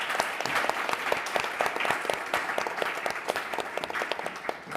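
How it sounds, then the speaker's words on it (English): An audience applauds panel speakers at a public event on a nuclear review, a dense, steady round of many hands clapping close by that carries evenly throughout. "let's give a round of applause to our speakers."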